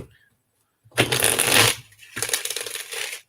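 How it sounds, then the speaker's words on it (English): A deck of playing cards being shuffled up close, two crisp riffling bursts separated by a brief pause, with no voices. "I'm going to shuffle one more time."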